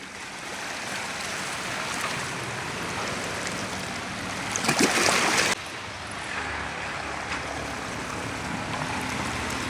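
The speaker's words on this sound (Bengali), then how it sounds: "সমুদ্রের ঢেউ সমুদ্রে পানির গর্জন" Sea waves at high tide on a Cambodian beach roar in a steady, dense wash of surf, with one louder breaking surge in the middle and no voices over the constant rush.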